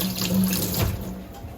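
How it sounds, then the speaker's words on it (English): Steady running water from a kitchen tap as hands are rinsed under the stream, a continuous close splashing wash without any talking. "I'm gonna give my hands a quick little rinse."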